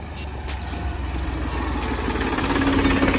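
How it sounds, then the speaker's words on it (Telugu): A tractor engine rumbles on a road past vegetable fields with low, steady knocking. It grows slightly louder as the tractor approaches, with no talk over it. "వాడైతే ట్రాక్టర్ తీసుకుని వస్తున్నాడు"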